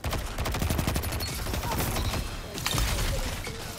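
Gunfire in the video game Destiny 2 during an Iron Banner match: rapid, dense bursts of shots, fairly loud and continuous with scattered impacts, and no talk.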